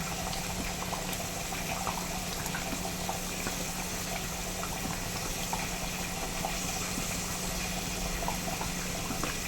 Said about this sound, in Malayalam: അരപ്പിവിടെ നല്ലപോലെ തിളച്ചിട്ടുണ്ട്